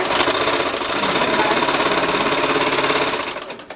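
A sewing machine stitches the hem of a flowing chiffon dress, running loud and close in a steady rapid mechanical rhythm for several seconds before slowing and winding down at the end.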